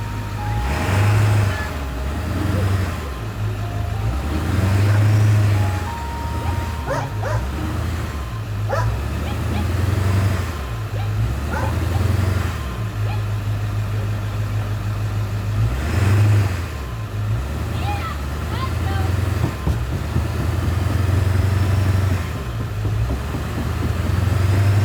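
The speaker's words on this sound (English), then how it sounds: "Well, we're in a traffic jam." Idling vehicle engines rumble steadily in a close traffic jam on a Moroccan road, with a few dog barks and occasional faint beeps on top.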